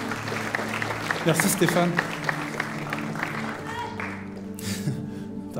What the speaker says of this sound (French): Est-ce qu'on peut l'applaudir, s'il vous plaît? Très très fort.